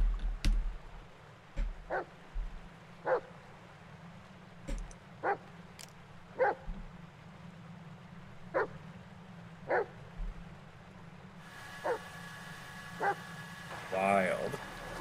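Dog barks from the Blair Witch video game ring out singly at a steady, spaced-out rhythm, mostly clear, with people talking lightly over the game audio.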